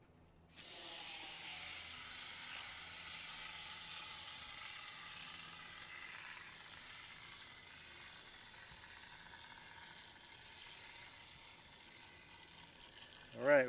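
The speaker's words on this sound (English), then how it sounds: "can hear still some air coming in as well" Air hisses into a flat tyre from a flat-fix canister held on the valve, starting with a sharp burst and then a long steady hiss that holds for many seconds before a brief louder release at the end.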